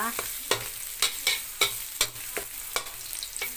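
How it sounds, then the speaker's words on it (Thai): Garlic frying in pork lard in a pan until golden and fragrant, a steady sizzle broken by sharp, regular scrapes and clacks of a utensil stirring roughly every half second, close up with no voices. "เราเจียวกระเทียมให้หอมค่ะ เจียวให้หอม เหลือง ก่อนนะคะ"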